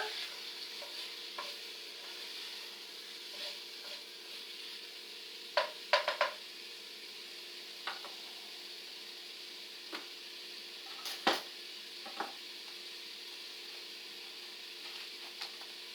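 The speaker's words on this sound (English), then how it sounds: "Give it a stir." Food stirred in a frying pan, a steady soft sizzle with scattered scraping clicks and a few sharper utensil knocks against the pan, no voices.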